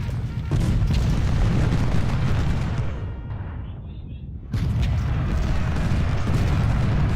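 Artillery guns firing in the Civil War video game Ultimate General: Civil War, a dense continuous roar of cannon booms and rumbling battle noise, loud and sustained with a brief dip midway.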